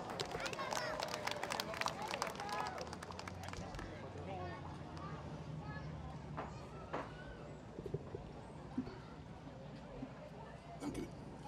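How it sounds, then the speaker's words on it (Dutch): An outdoor festival crowd on a square claps for a few seconds, followed by lingering chatter and murmuring voices with occasional scattered claps. "Een applaus."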